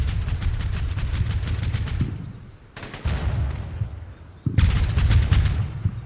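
Heavy 30mm cannon fire from a BMP-3 in the war game Combat Mission comes as a dense rapid burst of booming shots, then two more loud bursts with booming low rumble after short pauses.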